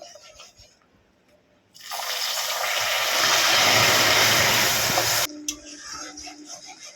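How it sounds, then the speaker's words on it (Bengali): About half a cup of water poured into a pan for semolina halwa on a low flame, a sudden loud hissing surge that lasts a few seconds and then stops abruptly. "এবারে এতে আমি 1/2 কাপের মতো জল দিয়ে দেব।"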